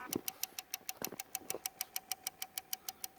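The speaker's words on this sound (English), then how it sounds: "Here's a little air compressor." A small WPL 1/10 scale air compressor for an RC drift truck runs with a fast, steady ticking pulse, fairly close and clear, with no talk over it.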